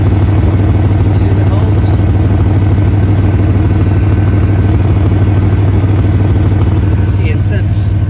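A 1992 Chevy truck engine with a big exhaust leak idles loudly and steadily with a raspy, puffing exhaust note throughout, while someone talks over it.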